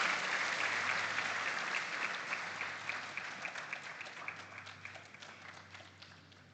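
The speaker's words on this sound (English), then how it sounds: "Please, a round of applause for him." An audience at a school farm awards grand final applauds, a broad wash of steady clapping from a sizeable crowd that slowly fades over several seconds, with no speech over it.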